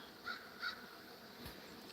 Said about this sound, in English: There's a crow.